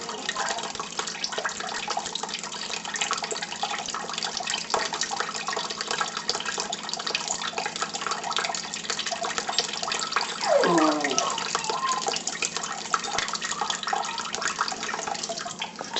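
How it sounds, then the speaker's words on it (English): Pinto bean cooking liquid drains from a pot into a kitchen sink, a steady close pouring and trickling wash with a brief gurgle partway through. "Put it in the sink. And I'm going to drain the liquid out."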